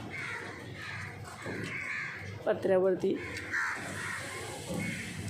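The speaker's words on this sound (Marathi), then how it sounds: "बघा कसे येऊन जमा झालेत कावळे" Crows caw loudly a few times nearby, harsh repeated calls in a short burst, while a person speaks briefly and other birds chatter around.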